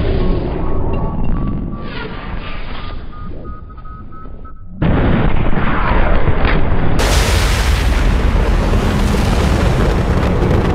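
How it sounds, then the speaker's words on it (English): Gunfire and explosions in the video game Mass Effect: a dense, loud barrage of booms and blasts that steps up to an even heavier, continuous roar halfway through. "Why shoot something once when you can shoot it 46 more times?"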